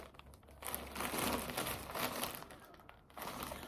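A large plastic shopping bag from a second-hand clothing shop crinkles and rustles loudly and continuously at close range while being handled for unpacking, with no talking.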